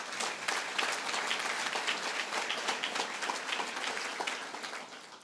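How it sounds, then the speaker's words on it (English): Sustained audience applause fills a conference hall at a business council annual meeting, dense and steady throughout without pause, with no talking over it. "Let's give them a round of applause"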